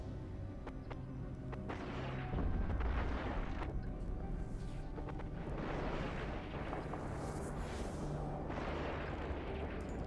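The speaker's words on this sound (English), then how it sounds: "See if we can get right into all of these missile effects." Missile impacts in EVE Online, a continuous dense rumble of overlapping explosions with a heavier boom around the middle and crackling bursts layered throughout, loud and steady with no talk.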